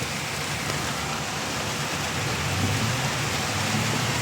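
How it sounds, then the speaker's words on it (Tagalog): Heavy rain pours down in a dense, steady hiss, with a low rumble underneath and no voices. "Lakas na ulan mga Lodi."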